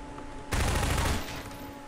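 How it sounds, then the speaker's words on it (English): Burst of gunfire from a Half-Life 2 weapon shooting at boxes for ammo, a loud dense rattle of rapid shots lasting under a second, then quickly fading. "I use my gun to kill, to shoot the boxes to get more ammo"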